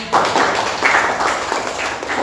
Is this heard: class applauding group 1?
yes